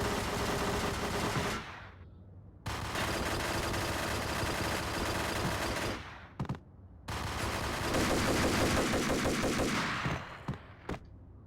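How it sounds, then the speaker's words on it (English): Fireworks in the video game Max Payne: long, dense bursts of rapid crackling explosions that stop abruptly and restart, with a few sharp single pops in between. Loud, with no talking. "There are fireworks going off now."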